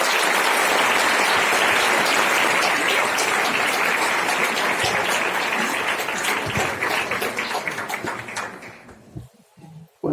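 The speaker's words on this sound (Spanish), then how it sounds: "Les pido un aplauso enorme para los dos" A large audience at an evening political talk in Mexico City claps loudly and steadily for two speakers, a dense wash of applause that thins and fades out near the end.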